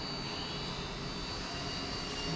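A lathe machining an oil filler cap for a 1932 Ford flathead engine gives a steady, even mechanical drone and whine at moderate level, constant throughout.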